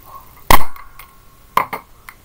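A Wack O Pack balloon toy gives sharp snapping pops, one loud crack followed a second later by a quick double burst and softer clicks, close by with no talking.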